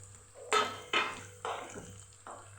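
Garlic and chopped tomato sauté in a pan for a seven-grain khichdo, a quiet sizzle broken by several distinct stirring scrapes and clinks of a spoon against the pan.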